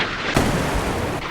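A Seawolf missile launch in the naval warfare game Sea Power comes across as a sudden loud blast that swells into a sustained roaring rush lasting about a second.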